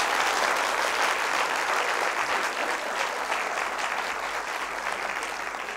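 A studio audience at a 1994 Turkish television talk show claps steadily, a thick, sustained wash of applause that stays fairly loud and fades only slightly toward the end.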